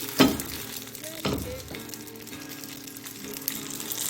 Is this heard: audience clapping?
no